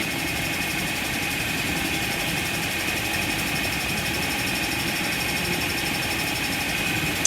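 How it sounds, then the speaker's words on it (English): A loud electric spinning wheel runs steadily for the whole stretch, a constant motor whir with a buzzing mechanical drone and no talk over it. "the e-spinner was really loud and messy"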